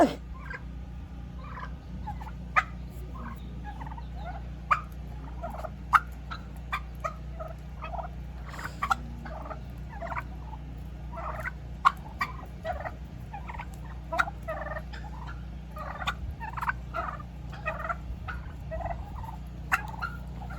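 Big 6 turkeys gobble in short, scattered bursts throughout, some close and loud and others softer, over a steady low hum with no talking.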